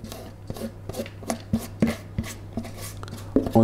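Grated carrots are stirred into carrot cake batter in a bowl, making a series of rhythmic wet knocks and scrapes about every half second that grow slightly louder toward the end.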